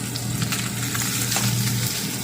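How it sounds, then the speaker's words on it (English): Salmon fillet seasoned with cayenne searing skin side down in a hot pan, giving a steady, dense frying hiss that stays even and close throughout, with no talking. "The reason you sear it skin side down first is so you can loosen the skin"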